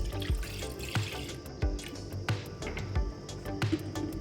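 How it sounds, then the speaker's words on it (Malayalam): Milk pours into a vessel while making a sapota (chikoo) custard pudding, a steady liquid splash close by with soft recurring thumps, no voices over it. "ഇനി നമ്മൾ എടുത്തു വെച്ച പാല് ഈ പാത്രത്തിലോട്ട് ഒഴിച്ചു കൊടുക്കാം നമുക്ക്"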